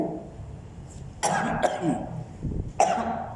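A few coughs and a throat clear from a person at a dawn lecture in a mosque, two or three sharp bursts spread over a few seconds against a quiet room, with no speech.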